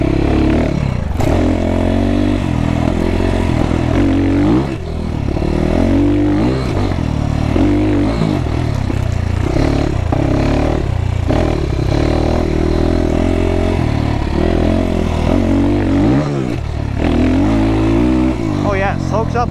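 A GPX FSE300R motorcycle engine runs steadily and loud through a ride, with rising and falling revs and wind noise, while people talk over it throughout.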